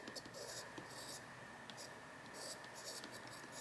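An S Pen stylus writing on the screen of a Samsung Galaxy Z Flip3, faint short scratchy strokes in separate clusters over low room noise.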